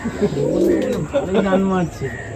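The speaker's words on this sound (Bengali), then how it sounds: "এটা কিন্তু গোলা লাইনের পায়রা" A pair of Madrasi pigeons gives low, bubbling coos at close range, one drawn-out rolling call followed by another, with a voice murmuring nearby.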